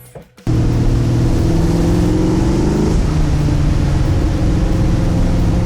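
A 1978 Pontiac Trans Am hardtop engine bursts to life after a brief quiet moment, then holds a loud, close, throaty roar whose pitch climbs slightly as it accelerates, with no voices.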